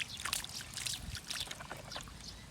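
Water is poured over a toy truck, a soft close trickle and splashing dribble that comes in uneven bursts, quiet and without voices.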